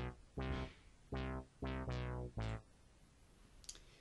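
A soft synth bass from a Novation Bass Station plugin plays a short run of punchy notes, each with a bright attack that quickly mellows, then falls silent.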